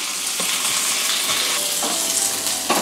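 Chana dal, urad dal, a single dried red chilli and curry leaves crackle in hot oil for a tempering, giving a steady, close, dense sizzle with a few brighter pops and no one speaking.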